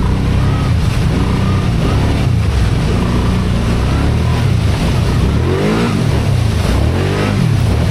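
A 2025 Kawasaki Brute Force 750 ATV engine churns loudly through a mud hole on Nova Scotia terrain, the motor droning and rising and falling in pitch as it pushes through, close and continuous throughout.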